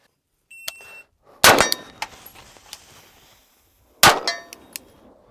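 A SIG 320 pistol with iron sights fires at steel targets: two sharp, loud shots, each followed by a ringing metallic clang, with lighter pings and taps between them.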